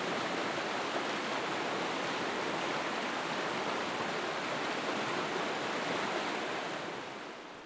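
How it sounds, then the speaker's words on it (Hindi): Water rushes steadily through an irrigation canal near Kagdi Pickup Point in Banswara, Rajasthan, a loud continuous roar without voices that eases slightly at the end. "उसको मैनेज करते हुए इस सिंचाई के पानी को आगे जाने दिया जाता है।"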